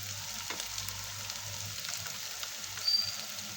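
Masala sautéing in oil with coriander powder and red chili added for chole, a soft continuous sizzle with faint stirring scrapes and a low background hum.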